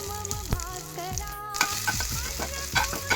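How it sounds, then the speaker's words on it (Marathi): Loud, steady sizzling of cumin seeds and ginger-garlic paste frying in hot oil in a kadhai, with scraping and stirring clatters at irregular intervals. "कढईमध्ये पुन्हा 1 डवला तेल घातला, त्यात जिरा टाकलं, अद्रक लसणाचा पेस्ट घातला"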